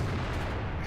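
A World of Tanks tank gun fires in a single heavy, booming blast that fills the short moment, loud and close with a rumbling low-end tail.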